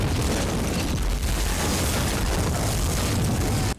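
Loud, sustained explosion blast from the action movie Die Hard with a Vengeance, set in New York, a dense roaring boom filling nearly four seconds before cutting off abruptly, with no speech.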